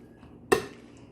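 Potato salad is folded in a bowl with a utensil, giving a single sharp clink against the dish amid near silence.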